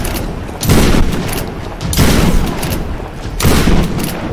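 Shotgun blasts in the 2013 Tomb Raider video game, three loud booming bursts about 1.4 seconds apart, each with a rumbling tail and nobody talking.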